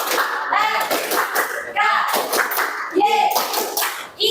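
Classroom group doing a rhythmic clap together, several bursts of synchronized clapping in a patterned beat, interspersed with children's voices chanting along.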